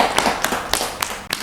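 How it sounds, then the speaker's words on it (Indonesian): Several sharp hand claps or taps, about five of them, spaced roughly every quarter second over a steady hissy room tone, close and fairly loud, with no one speaking. "Tepuk tangan dong"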